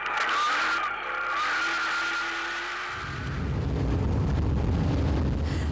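A Castrol Toyota Hilux rally truck roars past at speed on a desert rally route, its engine note rising and then giving way to a loud, rough rumble and rushing noise as it goes by.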